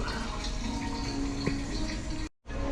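Engine oil pours from a car's drain plug into a drip tray in a steady, close, rushing stream, broken by a brief drop-out near the end.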